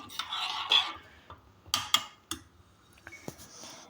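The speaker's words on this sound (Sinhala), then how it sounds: "මම මේ ඩාර්ක් චොකලට් එක මේකට දානවා. දාලා හොඳින් හැඳි ගන්නවා." A spoon stirs dark chocolate into milk, giving a few soft swishes followed by sparse light clinks and taps against the vessel, close and fairly quiet.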